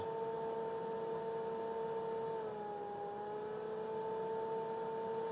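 A steady whirring cooling fan hum from a Gysmi 190 welding inverter under repair, with two tonal lines that dip and recover midway, its pitch wavering as the speed drifts, alone and fairly close.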